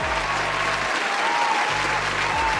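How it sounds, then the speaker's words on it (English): An audience gives a round of applause, dense and even clapping held at a steady level for the whole stretch, with no talking over it. "Give him a round of applause."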